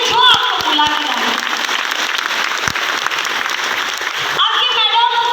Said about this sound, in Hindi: आप लोग एक बार ताली बजाइए उनके लिए जो आपको बुला के लाए